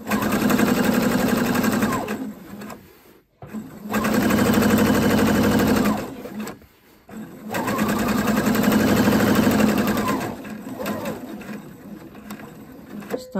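A sewing machine runs in three sustained stitching bursts while sewing a sleeve slit and cuff, each burst a steady mechanical whir. Brief pauses fall between the bursts, where the needle stops down and the fabric is turned.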